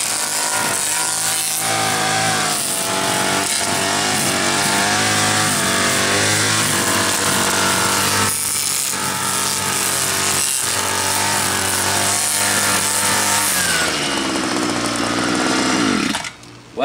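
Gas-powered string trimmer running steadily at high revs, a loud continuous buzzing two-stroke engine whine with harmonic drone, holding nearly constant before cutting off abruptly at the end.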